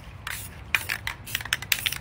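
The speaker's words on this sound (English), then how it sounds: "I just wanna spray right around the edge of this paper." Spray paint can spraying around the edge of paper, several short bursts of hissing in irregular quick succession, close and fairly quiet.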